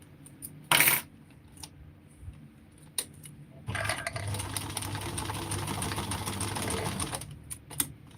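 A sewing machine stitching fabric runs in a steady rapid whir for about three seconds, preceded by a sharp metallic clatter and a few light clicks before and after.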